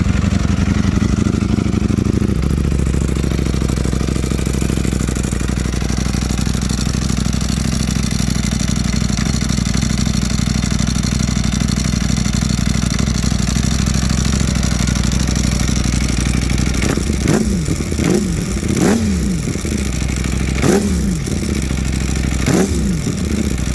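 A Ducati V4R motorcycle idles loud and close with a deep steady rumble, then near the end the engine is blipped through several sharp revs in quick succession.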